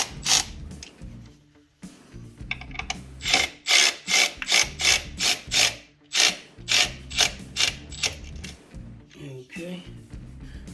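A hand ratchet tightens T40 bolts on a Trail Armor skid plate fitted to a Polaris Sportsman/Scrambler 850/1000 ATV, giving close, rhythmic bursts of crisp clicking over steady strokes, with faint voices in the background.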